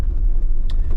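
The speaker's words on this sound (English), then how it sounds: "I'm basically going 5 miles an hour, and I've got my Jeep in 4 high" A manual Jeep in four-wheel drive high crawls at about five miles an hour over rough desert ground, making a steady, close, low engine rumble with a brief rattle near the end.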